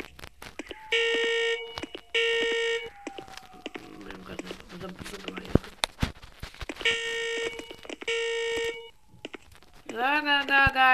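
An electronic alarm in the Grandpa and Granny Escape House game's New Year chapter beeps in repeated bursts of rapid tones, loud and clear, mixed with clicks and other game sounds.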